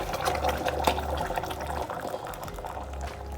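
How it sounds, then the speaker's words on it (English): Boiled water poured into a pot of rice for saffron rice, a steady splashing and trickling stream close by, with a low hum running underneath throughout. "3 cups of boiled water"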